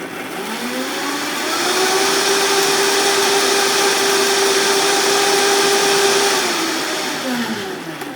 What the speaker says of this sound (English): I'm gonna put the lid on, and I am going to puree